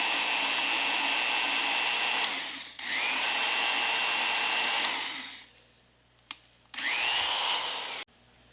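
A powered auger bores into an oak log in long, steady whining runs, close and loud, separated by short pauses and a sharp knock.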